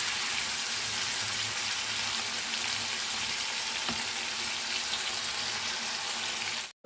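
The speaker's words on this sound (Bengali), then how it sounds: "এই চিংড়ি মাছগুলোকে আমি অল্প অল্প করে ভেজে নিচ্ছি" Prawns frying in oil in a pan for a Bengali prawn curry, a dense, even sizzle that holds steady and close, with a faint knock partway through before it cuts off abruptly.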